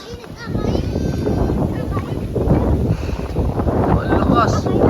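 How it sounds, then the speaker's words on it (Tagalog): Strong outdoor wind buffeting the microphone during a test flight in high wind, a loud continuous roar that swells toward the end, with people talking underneath and a faint whining tone early on. "Lakas ng hangin."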